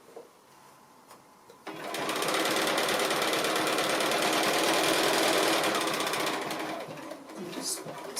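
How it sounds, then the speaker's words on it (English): A sewing machine runs steadily while stitching a quilt seam for a 60-degree diamond setting, a dense continuous whir lasting several seconds before it winds down and stops, with quieter handling sounds around it. "There the machine stops sewing."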